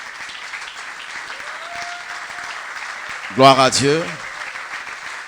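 A church congregation applauding steadily throughout, with a voice speaking loudly over the clapping partway through.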